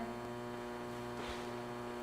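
Steady electrical mains hum drones on alone for the whole stretch, even and unbroken, with a brief faint rustle partway through.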